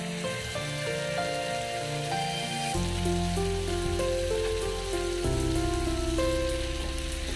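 Drained chow mein noodles go into a pan of spiced vegetables for veg noodles, and a continuous hissing sizzle runs throughout beneath sustained tonal music that shifts pitch twice.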